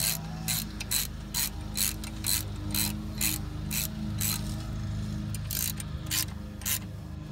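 Hand ratchet tightening bolts on a Rough Country differential guard under a truck, a rapid series of sharp clicking strokes in quick rhythm, close, over a low steady background hum.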